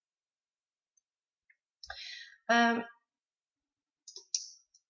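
A computer mouse clicks a few times while someone works in Photoshop; the clicks are faint and scattered, with a short spoken word between them in a quiet room.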